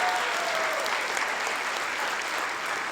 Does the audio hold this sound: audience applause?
yes